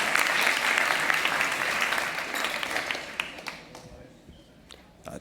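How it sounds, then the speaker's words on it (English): Summit audience applauding panelists as they come on stage, a loud wash of clapping that gradually fades over several seconds into scattered claps and quiet. "So please give them a warm applause."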